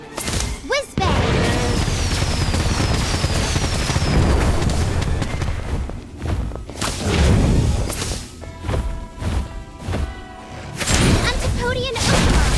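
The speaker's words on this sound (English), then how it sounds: "Whiz-Bang!" Whiz-Bang firework spell from Harry Potter: Magic Awakened, a burst of booming, crackling blasts with rising whistles, repeated in loud bursts amid game music and spoken spell calls.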